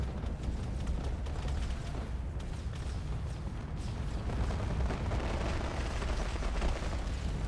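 Heavy weapons pound steadily on massive ships in a Space Engineers PvP tournament battle, a dense, continuous roar of booming impacts and rapid fire with no voices.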